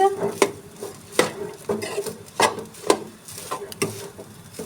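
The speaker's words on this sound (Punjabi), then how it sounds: "ਨਮਕ ਇਹਨੂੰ ਹੁਣ ਪਾ ਕੇ ਚੰਗੀ ਤਰ੍ਹਾਂ ਕਰਾਂਗੇ ਮਿਕਸ" Rice paratha dough with onion and salt is stirred and mixed in a bowl, a series of sharp utensil knocks and scrapes in an uneven rhythm, close and fairly loud.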